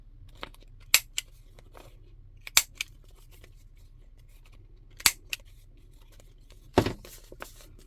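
Scissors trimming paper for an autumn collage book, with a few sharp, separate snips spaced seconds apart, close and crisp against a quiet low hum, ending in a longer cut.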